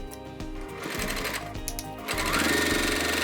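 A sewing machine stitches along a fabric rectangle for a crossbody bag, a loud, steady, rapid mechanical whir that continues alone and grows slightly louder toward the end.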